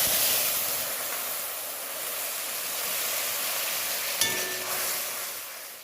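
Mustard paste fries in a wok with a broad, steady hiss, stirred throughout, and a single sharp clack near the end.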